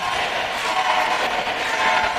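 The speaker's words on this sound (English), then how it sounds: "I hate to hear the cheers of the fans" A wrestling crowd in Walton roars and cheers, a steady wash of many voices at close range, loud and unbroken throughout.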